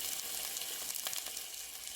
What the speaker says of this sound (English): Fry the chicken until it turns a beautiful golden brown on both sides